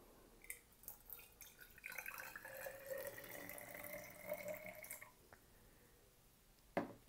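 Water is poured into a container during a home ritual: a thin, trickling stream that runs for a few seconds, then fades to a faint drip, and a sharp clink near the end, all quiet and close.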